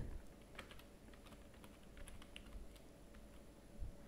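Fingers type a password on a computer keyboard, a quiet run of light, irregular key clicks over a low room hum, with no voices.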